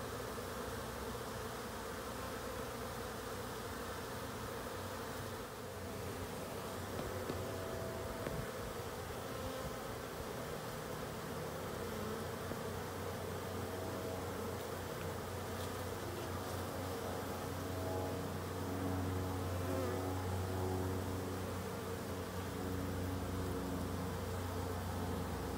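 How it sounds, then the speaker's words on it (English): A honey bee swarm moving into a swarm trap box outdoors gives a steady, dense buzzing drone that stays loud and continuous throughout, with no talking. "You see that entire swarm has just about moved completely into this box."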